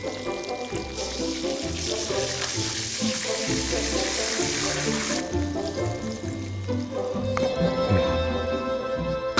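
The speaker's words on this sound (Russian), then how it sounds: "Минеральная вода Тассай даже звучит, как серебряный колокольчик." Tassay mineral water poured in a steady, bubbling stream for several seconds, close and moderately loud, with a brief louder splashy stretch early on and no talk over it.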